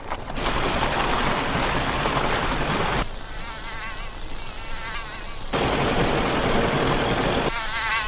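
In an animated cartoon, a mosquito drones in a loud, steady, high whine that cuts in and out in sections with no one speaking.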